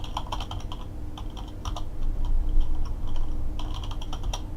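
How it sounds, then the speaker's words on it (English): Fast typing on a computer keyboard, with close, crisp key clicks in quick bursts and short pauses, over a faint low background hum and no talking. "typing too fast here"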